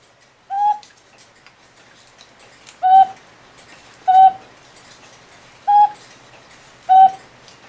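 Five separate two-note whistle calls from a cuckoo clock whistle box, each a short bright hoot evenly spaced a second or two apart, sounding close and clear over a quiet background.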